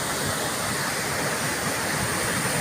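Mountain river rushing through regulating gates, a steady, dense broadband roar of fast-flowing water, close and continuous with no talk over it.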